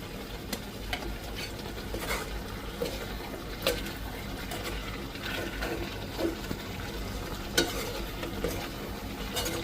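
Ground cumin and pepper being stirred into a frying pan, a soft continuous sizzle with scattered light scrapes and taps of the spoon, fairly quiet and without talk.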